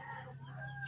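A chicken clucks faintly in a short burst over a low steady hum, brief and somewhat distant.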